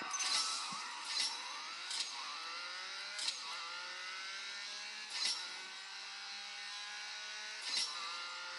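BMW M4 Coupe engine on a half-mile dyno run in CSR Racing 2, revving up repeatedly through the gears with rising whines, each climb cut by a sharp shift blip, loud and close with no talk.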